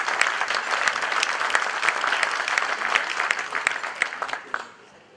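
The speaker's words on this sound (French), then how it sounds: "je voudrais qu'on t'applaudisse ce soir pour ce que tu fais pour le mouvement" An audience at a political speech in Cannes applauds with dense, steady clapping that fades out at the end, with no talk over it.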